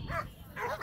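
A sled dog at a sled dog race in Madona gives two short, close yelping barks in quick succession against faint background noise.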